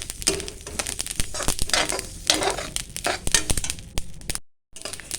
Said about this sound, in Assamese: এতিয়া মই তিলখিনি কেৰাহীখনত ভাজি ল'ম